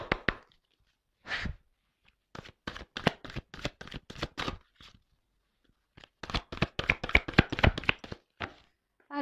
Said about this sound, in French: Ah, les cartes, elles sont très grandes. Elles font presque la taille de ma main. Alors, c'est pas simple des fois pour les secouer.